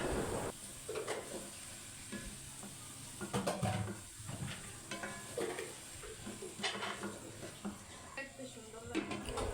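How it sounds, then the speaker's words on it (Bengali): Half-boiled potatoes and taro stolons being stirred in a pan, with scraping and clattering stirs, a light sizzle, and brief indistinct speech in the background. "এখন লতিগুলো দিয়ে ভালোভাবে নেড়ে মিশিয়ে দিচ্ছি"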